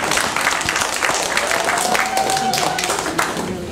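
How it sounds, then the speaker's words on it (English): Hand clapping from attendees at a monthly board meeting, a close, sharp patter of claps that continues evenly for several seconds alongside faint voices. "I gotta give you a hand clap for that"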